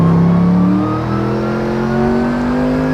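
A Mercedes-AMG GT3 race car exits a corner at the JunChi circuit, engine note climbing loudly and continuously through the revs as it accelerates hard, heard close from inside with no talk.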